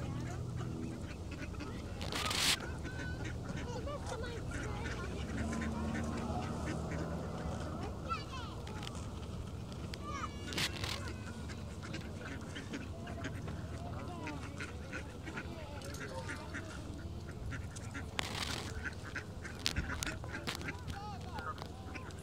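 Geese and ducks honk and quack repeatedly at a pond or park on a cool, windy afternoon while being fed bread, with constant wind noise and people talking nearby.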